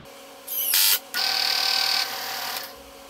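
A power tool whirs in short bursts while screwing a wooden bed down onto a drill press, with a louder run starting near the middle and a steadier hum continuing afterward, close and alone.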